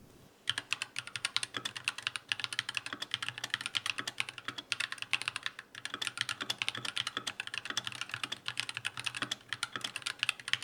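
Rapid, continuous clacking of keys on a Redragon Fizz K617 budget rapid trigger keyboard, close and fairly loud, with dense irregular keystrokes and a brief pause midway.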